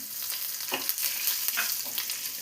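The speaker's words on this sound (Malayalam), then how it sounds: "ഇതിലോട്ട് 3 ഉണക്കമുളക് പൊട്ടിച്ച് വെച്ചതും വേപ്പിലയും കൂടെ ചേർത്ത് കൊടുക്കാം." Dried red chillies and curry leaves frying in hot oil after mustard seeds have popped, a loud continuous sizzle with spitting bursts throughout, close up and with no voices.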